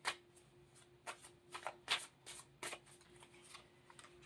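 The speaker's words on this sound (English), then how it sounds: "Now I was able to shuffle." A deck of cards being shuffled in a series of quick riffling bursts, fairly quiet, with a faint steady hum underneath.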